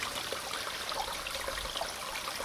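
Water flows in a small stream, a faint, steady babbling trickle without any voices.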